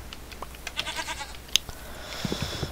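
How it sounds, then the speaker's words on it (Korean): A goat in Minecraft gives a few short, nasal bleats, mixed with light game sound effects and clicks, fairly close and without talk. "여기 염소가 있네요."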